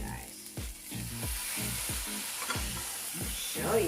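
A steak sizzles in a pan with a steady hiss and crackle, while repeated scraping or stirring strokes sound close by at an even pace.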